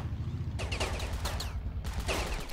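Gunfire in Ravenfield's desert warfare battle: a few scattered sharp shots crack over a constant low rumble of engine and combat noise, with short gaps between reports.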